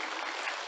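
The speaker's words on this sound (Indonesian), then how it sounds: "Tepuk tangannya ikhlas semuanya." Applause from an audience at a motivational talk, a dense steady wash of many hands clapping at once, fairly soft and continuous with no pauses or voices.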